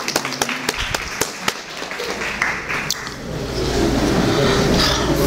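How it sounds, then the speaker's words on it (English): An audience at a community charity fundraiser in Columbus, Ohio claps its hands: a few sharp, separate claps at first, then a rising wash of crowd clapping and general hall noise that grows louder and fuller. "I want to one more time everybody clap clap their hands"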